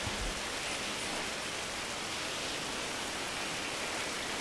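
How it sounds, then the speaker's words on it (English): Steady, dense rainfall in the game Prison Architect hisses evenly throughout, a constant wash of noise with no voices or other sounds. "Wow, it is really raining, isn't it?"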